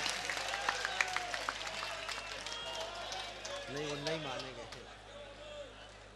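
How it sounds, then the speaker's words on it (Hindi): An audience at a mushaira poetry gathering in Bhiwandi claps in welcome, a scattered patter of applause under a speaker's voice and crowd murmur, moderately distant. "तालियों से हम इस्तकबाल करेंगे"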